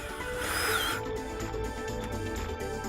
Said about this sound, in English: before screwing them together with stainless steel screws